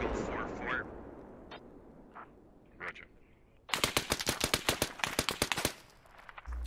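Squad video game gunfire: after a quiet, muffled stretch of ambience, a loud burst of roughly a dozen rapid automatic shots rattles out in quick succession, then cuts off.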